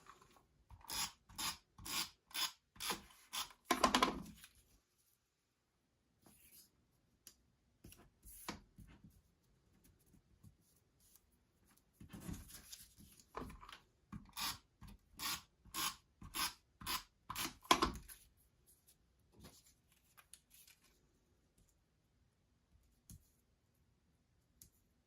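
Tape being torn and pressed down over paper borders for a craft project, in two bursts of quick rhythmic ripping strokes separated by a quiet pause, close and fairly loud, with no talking.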